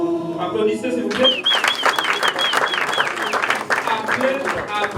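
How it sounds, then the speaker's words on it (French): Audience applause at an event in the Democratic Republic of Congo, scattered clapping that follows music and rises over a few seconds, mixed with chirpy whistles and cheers from the crowd. "Applaudissez s'il vous plaît."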